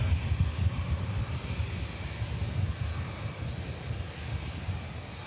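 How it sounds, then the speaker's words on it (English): Ryanair airliner departing Manchester Airport for Barcelona, a steady loud roar of jet engines with broad rumble and wind buffeting, sustained throughout without pause. "there goes the Ryanair to Barca"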